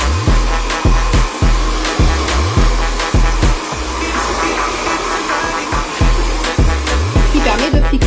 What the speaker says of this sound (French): sur votre sèche-cheveux, normalement vous devez avoir un mode froid